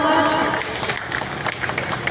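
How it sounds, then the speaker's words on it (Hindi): Applause from an audience at a ceremony opening a sub-registrar office in a Bihar block office, a dense burst of clapping with crowd noise that fades slightly over about two seconds, with a voice faintly beneath. "जोरदार तालियों के साथ"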